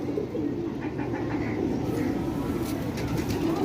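Pigeons at a Sialkot loft cooing softly amid a dense, steady low murmur of background noise, with faint higher chirps scattered through.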